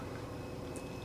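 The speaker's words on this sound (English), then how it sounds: "what that one sound you hear is the refrigerator." A refrigerator hums steadily inside a converted cargo trailer with the air conditioner running, a faint, continuous drone with a thin whine on top and no voices.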